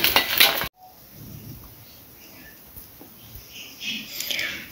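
Plates and utensils clink softly while paratha, fried potatoes and egg are served, a few light metallic taps and scrapes after an abrupt cut, quiet and close.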